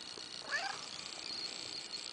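A single soft meow from a pet cat at home, faint and brief against a low steady background hiss, with no one talking.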